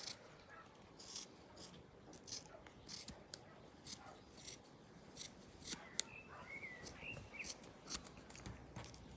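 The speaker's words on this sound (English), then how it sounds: "just cut off the loose ends really." Scissors snip through the loose ends of a halyard rope, a series of quiet, crisp cuts spaced about a second apart, close by with no talking.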